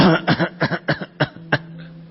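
A voice imitates coughing, a series of six short, sharp coughs spaced fairly evenly, close and fairly loud.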